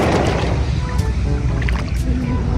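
Gentle sea waves swirl and wash close by in a loud, continuous, churning rush of water, with no clear talk over it.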